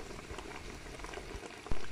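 Plum jam (pekmez) bubbles as it boils in a pot, a soft, continuous bubbling and popping close by, with a slightly louder burst near the end and no talking.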